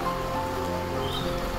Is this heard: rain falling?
yes